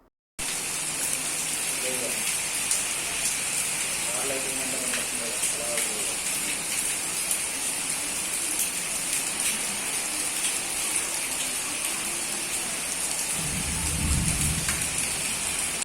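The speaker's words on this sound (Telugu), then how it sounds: "పట్టణంలో మెయిన్ రోడ్పై వర్షం ఏరులై ప్రవహిస్తుంది" Heavy rain pours onto a town's main road, where water runs in streams. The dense, steady roar is constant throughout, and a deep thunder rumble rolls in near the end. Faint voices are barely audible beneath the downpour.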